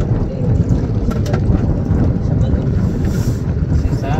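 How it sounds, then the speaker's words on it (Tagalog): Heavy wind buffeting the microphone on a fishing boat at sea, a continuous low roaring rumble that stays loud throughout, with faint sounds barely audible beneath it. "Malakas na po yung hangin, so naririnig na po natin sa video"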